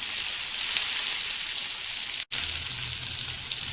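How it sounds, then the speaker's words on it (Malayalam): Pieces of red belly fish frying in hot oil make a dense, steady, loud sizzle, broken by one brief dropout, with no talking. "ഇനി നമുക്ക് ചെറുതായിട്ടൊന്ന് ഫ്രൈ ചെയ്തെടുക്കാം"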